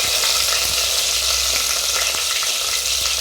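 Fennel seeds and chopped green chillies frying in hot sesame oil give off a loud, dense, continuous sizzle with faint crackles throughout, close up and with no voices.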